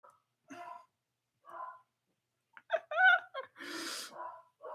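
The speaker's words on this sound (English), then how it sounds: "My dog is flipping out, guys." A dog gives excited snorts, sneezy huffs and whimpering breaths in short separate bursts, close to the microphone against otherwise quiet surroundings.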